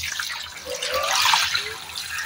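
Hot, not boiling, water poured over crabs in a vessel, a short close splashing pour that swells and then trickles off, with no talk.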